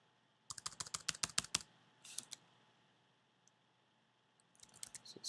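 Typing on a computer keyboard: a quick run of close, crisp key clicks, then a short pause, a few more taps and another brief burst, with no talking.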